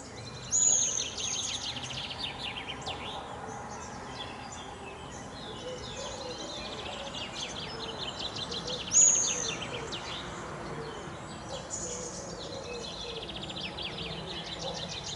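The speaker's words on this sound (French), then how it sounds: "faire profiter du chant des oiseaux" Birds chirp and trill in the distance across a calm outdoor ambience, with a couple of brighter calls standing out near the start and midway.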